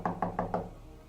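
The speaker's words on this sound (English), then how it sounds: "there is a knock at the door." Four quick, evenly spaced knocks on a door, fairly close and moderately loud, followed by a short pause and a faint final tap.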